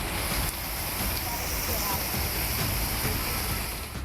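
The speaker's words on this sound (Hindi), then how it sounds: "उफनते नाले का पानी जब पुलिया लांघकर गांव में घुसा" Floodwater from an overflowing drain rushes over a culvert into a village during heavy Maharashtra rains, a loud, steady roar of churning water close by, with a voice faintly present beneath it.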